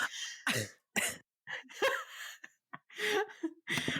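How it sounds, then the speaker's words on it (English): A woman coughs from laughing hard, a burst of short, sharp coughs and gasping breaths in irregular rhythm, close and clear with brief silences between. "laughing so hard she coughed"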